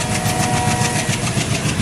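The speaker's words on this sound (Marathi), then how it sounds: "धडधडत ट्रेन चालली होती" A freight train engine drones loud and close, its steady rumble overlaid with a regular clickety-clack of wagons rolling along the track, with no speech.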